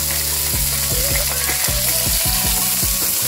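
Chopped bamboo shoot sizzles in hot tempering oil for a Kannada-style dry curry, a steady loud frying hiss with scraping, rhythmic stirring clicks of a spoon against the pan throughout, no talk.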